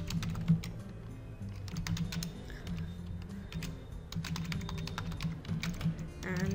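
Keys clatter steadily on a computer keyboard while someone fills in name, email and password fields on a WordPress registration form, a continuous run of close, quick taps over a faint low hum.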